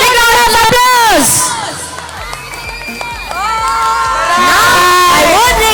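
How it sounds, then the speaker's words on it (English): School annual day crowd cheers and shouts loudly for the winning house, children's high voices rising and falling in waves, with a lull in the middle before the cheering swells again. "Give them a big Round of applause."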